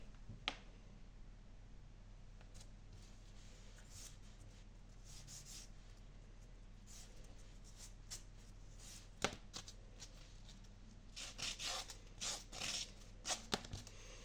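Metal file and sandpaper working a handmade heart-shaped Valentine's jewelry piece, steady close scraping strokes under a low hum, growing into quicker rasping bursts toward the end.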